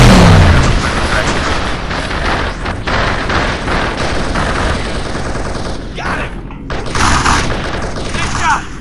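Rapid gunfire in Halo SPV3, dense bursts of automatic shots and booms continuing for several seconds, loud and close, with voices speaking over the fighting.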